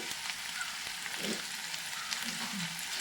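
Chopped medium onions frying in hot oil in a pan for cutlet masala, a steady, dense sizzle throughout with faint stirring movement underneath, close and even.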